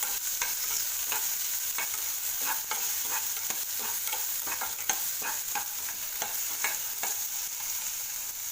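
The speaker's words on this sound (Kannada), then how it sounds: "ಆಲೂಗಡ್ಡೆ ಹಾಕ್ಕೊಂಡು ಫ್ರೈ ಆಗಬೇಕು" Potatoes sizzling steadily in a hot pan while a spoon stirs them, with regular scraping clicks over a constant frying hiss, close and with no voices.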